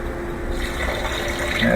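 Water pours steadily into a pot for asparagus soup, a continuous close splashing rush with no pauses.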